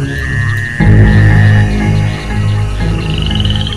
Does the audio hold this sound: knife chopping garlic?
no